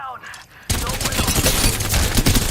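Sudden dense volley of gunfire in a video game erupts after a short quiet moment and keeps going, loud and continuous, with overlapping rapid shots.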